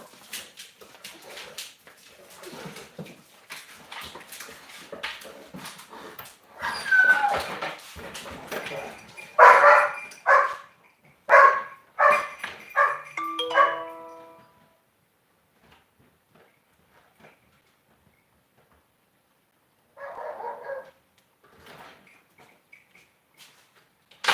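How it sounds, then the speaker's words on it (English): Several dogs bark, yip and whine insistently indoors, wanting to be let outside, in loud clustered bursts that fade to near silence before a short final flurry. "I gotta let the dogs out."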